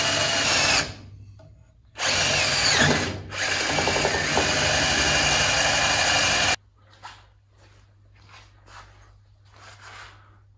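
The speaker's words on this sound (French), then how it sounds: "J'amorce mon perçage pour éviter de glisser." A power drill bores at a 45-degree angle while a roof support bracket is being built, giving two loud sustained whirring bursts with a short pause between them, then quiet scattered tool clatter.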